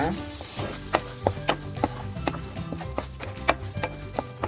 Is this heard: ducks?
no